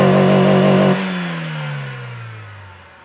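A Renault Sandero RS engine heard from inside the car revs loudly for about a second, then the revs drop and the engine note slowly winds down.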